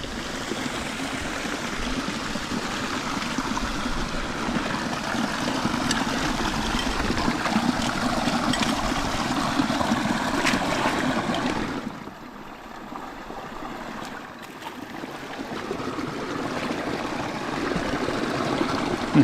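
A stream flows steadily beside a trap on a winter trapline, a constant close rushing gurgle that briefly softens midway before swelling again, with no talking.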